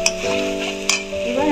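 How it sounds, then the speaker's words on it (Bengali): Masala spices for shahi paneer frying and being stirred in a pan, a steady close sizzle with scraping strokes of the spoon and a couple of sharp clicks, no talking. "অলমোস্ট আমার মশলাটা, এই দেখো বন্ধুরা, মশলাটা একদম কষানো হয়ে গেছে"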